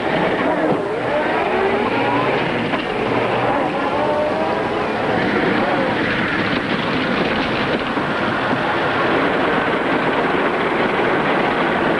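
An Earthworm tractor in a 1936 comedy film ploughs through a swamp with a steady, heavy mechanical rumble that runs unbroken for many seconds, while people talk over it.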